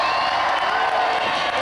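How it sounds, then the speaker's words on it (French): A gala audience applauds and cheers a performer being introduced, a steady wash of clapping and crowd noise at even loudness throughout. "Vous allez l'applaudir très fort"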